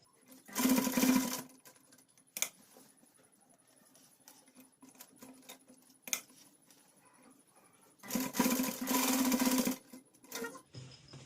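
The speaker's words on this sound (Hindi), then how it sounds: "यहाँ से हम इसे इस तरह से फोल्ड करेंगे और यहाँ पे डबल में स्टिच कर लेंगे।" Sewing machine stitching a button placket on a girl's Pathani suit, two loud bursts of rapid whirring stitching separated by a quieter stretch of small clicks and fabric handling.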